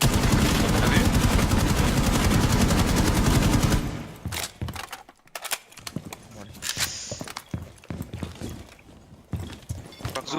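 Rapid bursts of automatic gunfire in Rainbow Six Siege, loud and dense for the first few seconds, then scattered single shots, footsteps and clatter as players talk.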